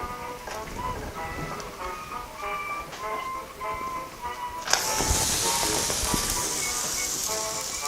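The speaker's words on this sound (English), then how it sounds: "now we have the dumplings, and we're gonna put them into boiling water" Georgian khinkali dumplings drop into a pot of boiling water halfway through, setting off a sudden hiss and bubbling that continues steadily. Talking and kitchen clatter come before it.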